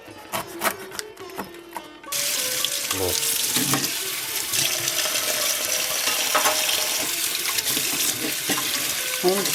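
Medium pieces of game bird washed under a running kitchen tap, a steady loud gush of water splashing over the meat after a few quieter knocks and clatters at the start.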